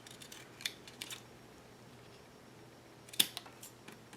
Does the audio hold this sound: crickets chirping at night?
no